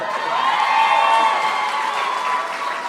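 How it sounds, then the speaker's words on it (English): A large Seattle crowd at a live podcast taping applauds and cheers, a dense, sustained wash of clapping with some voices, loud and continuous throughout. "So A lot of easy applause from this Seattle crowd."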